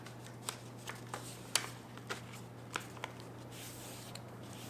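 Paper origami module being folded in half side to side, giving a series of soft, crisp crinkles and creases at irregular intervals over a steady low background hum, close and fairly quiet.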